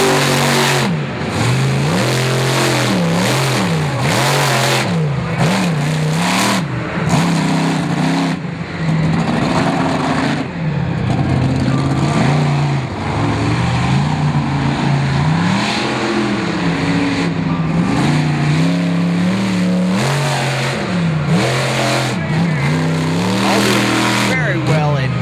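Ram trucks race around a dirt track at a 4-wheel jamboree in Indianapolis, engines revving and surging loudly and continuously with rising and falling pitch, under an announcer's running commentary.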